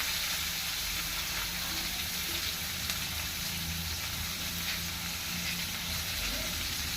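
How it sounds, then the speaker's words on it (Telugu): Onion chutney with a pinch of cumin and fresh coriander sizzles steadily in a pan on the stove, a continuous close frying hiss that holds at an even level throughout with no talking. "అది వేగేలోగా ఇప్పుడు చట్నీ ఫ్రై అయిపోయిందండి."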